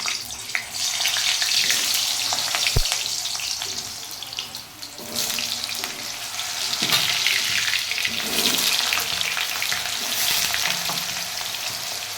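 Potatoes fry in a pan of hot oil for a dhaba-style chicken curry, giving a loud, continuous close sizzle with occasional stirring scrapes and no talk.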